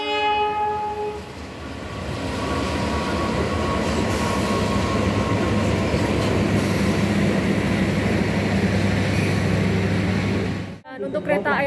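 A passenger train, the Airlangga, rumbles at Cirebon Prujakan station in Indonesia, with heavy rail noise, a brief horn-like tone early on, and a sudden dip near the end.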